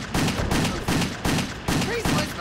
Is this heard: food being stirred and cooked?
no